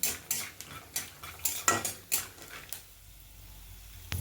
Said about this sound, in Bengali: এদিকে কিন্তু চিড়ে বাদামটা অর্থাৎ চিনি বাদামটা কিন্তু আমার ভাজা হয়ে গিয়েছে